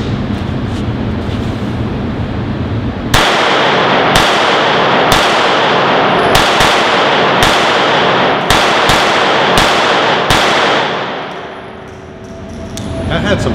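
Beretta Cheetah .380 pistol fired at a range, about nine sharp, loud reports at irregular intervals over a steady background roar, with voices murmuring faintly beneath.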